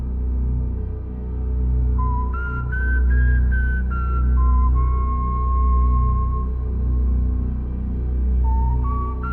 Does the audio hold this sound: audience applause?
no